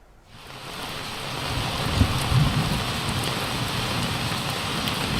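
Heavy rain pours in Hyderabad, Telangana, a dense continuous roar that swells in over the first second and then holds steady, with a couple of low thuddy bumps and no voices.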